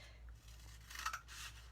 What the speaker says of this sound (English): To make this tube smaller, the only thing you need to do is take your scissors,